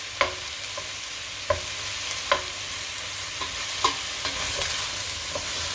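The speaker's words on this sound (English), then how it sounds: "Just need to break up some of that bacon as I've cut it." Cut bacon frying in a pan for pasta carbonara, a soft steady sizzle broken by sharp knocks and scrapes as the pieces are stirred and separated, no talking.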